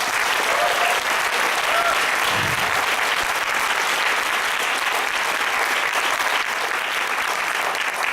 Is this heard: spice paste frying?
no